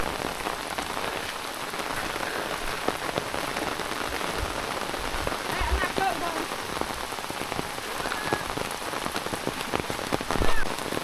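Heavy rain pours down steadily, a dense, even hiss of drops hitting surfaces close by, continuous throughout with no talking.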